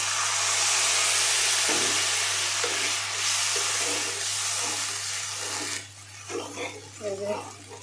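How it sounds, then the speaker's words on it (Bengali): Water hits a cooked-down spice paste in a pan for an egg and eggplant curry, setting off a loud hissing sizzle that fades after several seconds, with a person talking as it dies down. "এখন পানি দিয়ে দিলাম"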